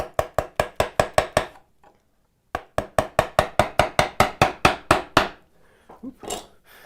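A chisel is driven into wood to cut a mortise for a mortise-and-tenon window joint, struck in two quick runs of sharp, evenly paced knocks (about eight, a pause, then about twelve), close and loud with no talking.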